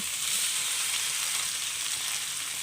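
Steady, dense hiss of hot oil sizzling close up as fried okra pieces go into the tempering, constant and unbroken, with no voices.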